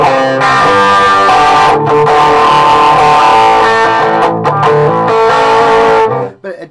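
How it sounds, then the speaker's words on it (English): Distorted electric guitar through a VOX VT20+ modelling amp on a distortion preset, loud and sustained chords ringing out continuously before cutting off abruptly near the end. "the distortion on it is probably the best not valve amp distortion I've heard"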